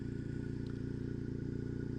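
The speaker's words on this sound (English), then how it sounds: "So let's get the bike started" A motorcycle engine idles steadily just after starting, a fast even low-pitched putter with slight clatter, close by and continuous, no voices.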